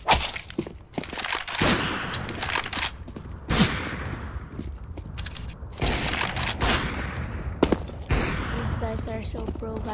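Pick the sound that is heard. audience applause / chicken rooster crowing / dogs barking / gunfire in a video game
gunfire in a video game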